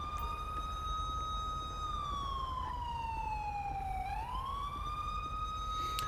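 A police siren on a 2011 Ford Crown Victoria California Highway Patrol car in GTA with LSPDFR wails in a long, slow, steady rise and fall, loud and alone over a low rumble.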